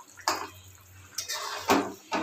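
Pieces of fried rohu fish go into simmering gravy with ridge gourd and potato, giving four soft, wet splashing bursts spaced about half a second apart over a low steady hum.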